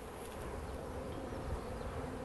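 Honeybees buzz at an open hive, a dense steady drone of many wings close by, low and continuous with no talk.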